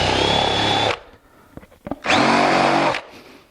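A power drill cuts a countersink hole in wood in two loud, whining bursts of about a second each, separated by a pause with a few light clicks and taps.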